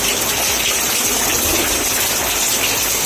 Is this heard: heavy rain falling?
yes